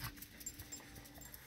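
Dogs in a backyard pant softly and rhythmically with faint whimpers, quiet and close, against low outdoor background noise.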